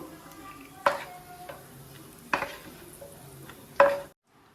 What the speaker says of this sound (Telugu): సేమియాలు ఫ్రై చేసుకున్నామండి